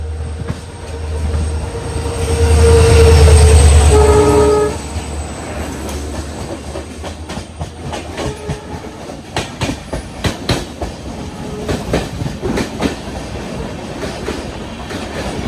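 The Dehradun Express rolls through a station in Vadakara, sounding a loud horn blast early on, followed by continuous clattering wheels and rhythmic clicks over rail joints as the carriages pass close by.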